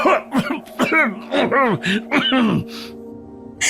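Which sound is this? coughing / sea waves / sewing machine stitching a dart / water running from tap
coughing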